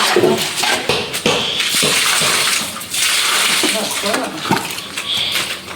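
Water splashes and runs steadily from a tap, with clattering of dishes or objects and a voice or two in the background.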